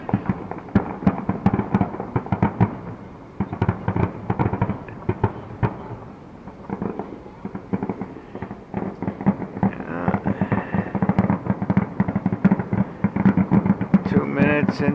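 Big fireworks shells burst in a rapid, dense grand-finale barrage, with repeated booms and crackles overlapping continuously at a moderate distance.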